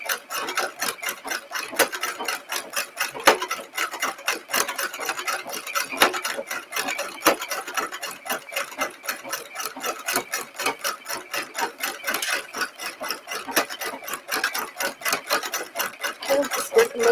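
A sewing machine stitches piping in a steady, rapid mechanical patter of needle strokes, running continuously at close range with slight changes in speed and no talking.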